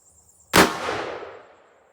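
.357 Magnum revolver firing a Sierra 158gr JSP bullet: one loud, close, sharp shot with a long ringing decay that fades over about a second.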